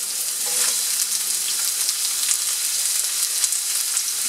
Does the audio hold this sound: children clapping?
no